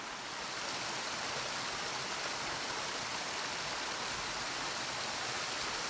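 Mountain stream water on a trail between Galena Peak and Little San Gorgonio, rushing steadily and loud, a continuous broadband roar with no voices.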